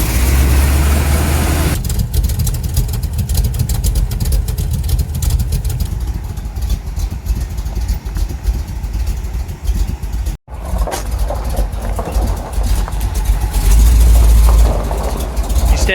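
A 1975 Chevrolet C10 engine idles steadily nearby, a continuous low rumble that holds throughout with a brief cut near the end, no talk over it.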